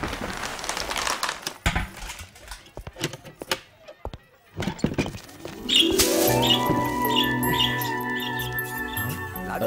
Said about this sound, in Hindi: उड़ गई चिड़िया